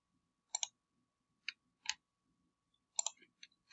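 Sharp computer mouse clicks, mostly in quick double pairs and single taps, about six to eight in all, close and quiet against near silence.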